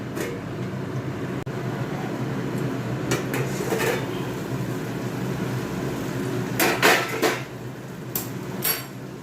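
A cooking pot of pointed gourd curry in oil is covered with its lid, giving a few sharp metallic clanks and scrapes over a steady kitchen background, with no voices.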